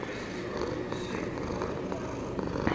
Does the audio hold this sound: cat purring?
yes